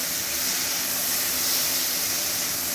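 Mixed vegetable torka, boiled vegetables with onion and garlic, sizzling steadily in a pan as it is stir-fried, a continuous close hiss with no break and no voices.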